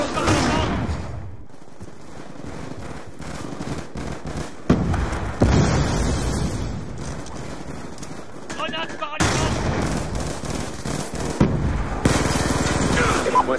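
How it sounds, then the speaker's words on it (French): Stun grenade blasts in Call of Duty Black Ops 2 multiplayer, a few sharp bangs that cut through a dense mix of game gunfire and explosions, with muffled ringing gaps between bursts. "Grenade paralysante."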